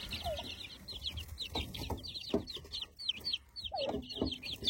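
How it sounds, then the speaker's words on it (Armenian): Several hens cluck restlessly in a backyard village coop, with a broody hen among them. Uneven clucks and sharp squawks repeat close by, over faint rustling and no speech. "Քնկահավը անհանգիստ է, նայեք"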